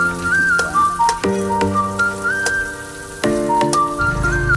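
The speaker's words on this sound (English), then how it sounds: "Now, let's start sauté the garlic and onion." Garlic and onion sauté in hot oil with a steady, crackling sizzle that runs throughout. A whistling tune plays over it, and the sizzle swells louder near the end.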